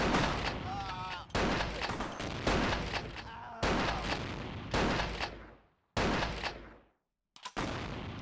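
Shotgun fire in the game Vampire: The Masquerade – Bloodlines: a rapid series of loud, booming blasts at close range, each cut off abruptly, with a brief silence near the end and a voice speaking underneath.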